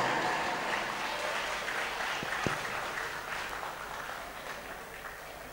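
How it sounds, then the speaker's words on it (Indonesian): A hall audience claps for a rebana frame-drum group from MI Darul Falah in Kudus, a soft, fairly distant wash of applause that slowly fades, with a couple of sharp knocks partway through. "Beri tepuk tangan"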